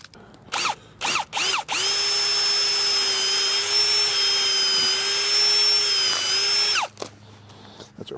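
A power drill runs steadily with a whining motor while drilling a pilot hole for a shed earth anchor. Short bursts come first, then one long continuous run of about five seconds, loud and close.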